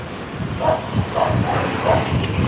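Dogs barking in a steady run of four or five barks at moderate distance, over a low background rumble.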